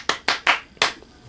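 Four sharp hand claps in an irregular rhythm, close and distinct, with short gaps between them and a longer pause before the last.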